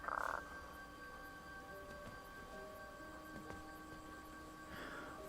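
A frog croaks in the 2015 King's Quest video game on PS4, with a short loud burst at the start and another near the end over a steady, faint musical ambience.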